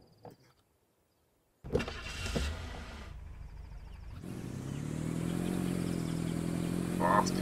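A car engine revs up as a mechanic gives it more gas, starting after a brief near-silence with clunks and a rising engine note, then settling into a steady, louder hum that swells at the end.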